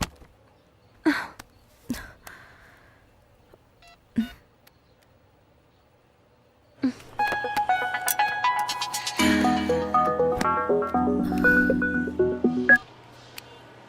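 A few soft taps, then a run of electronic beeping tones like a phone being dialed, layered and steady for several seconds before stopping.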